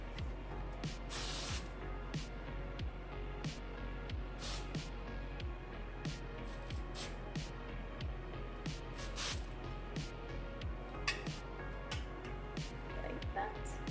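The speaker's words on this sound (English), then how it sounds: "So I'll use my weightless hairspray." Weightless hairspray misted onto hair for smoothing flyaways, heard as several short hissing bursts of varying length over steady background noise and low rhythmic thumps.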